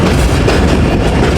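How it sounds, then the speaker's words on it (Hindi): The 38 Down Baba Fareed Express passenger train runs on the rails as it approaches Arifwala railway station, loud and close, with a dense rolling rumble and rhythmic clatter from the wheels. "आरिफ वाला रेलवे स्टेशन पे अप्रोच बना रही है हमारी 38 डाउन बाबा फरीद एक्सप्रेस"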